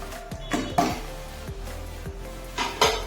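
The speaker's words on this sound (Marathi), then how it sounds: "आता ह्याच्यावर आपण हे भांड ठेवूया" A metal dhokla vessel is set into a pressure cooker over boiling water, giving a few close metallic clanks and knocks spread across a few seconds, with no talking.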